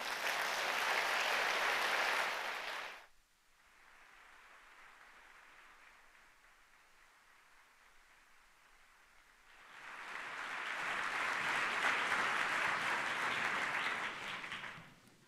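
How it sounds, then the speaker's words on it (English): An audience at a conservative conference in Atlanta applauds a speaker taking the stage, a dense wash of clapping that fades to a quieter patter and then swells loudly again. "please join me in giving her a round of applause"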